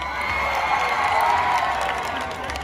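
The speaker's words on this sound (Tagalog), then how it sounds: "gusto ko munang makarinig ng malakas na palakpakan at sigawan para kay BBM at Sara" A large crowd at a political rally for BBM and Sara applauds and cheers, a steady, dense wash of clapping and shouts that holds throughout.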